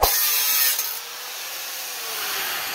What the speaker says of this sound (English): We're going to have to cut out a notch like this big to be able to fit the exit pipe of the intercooler.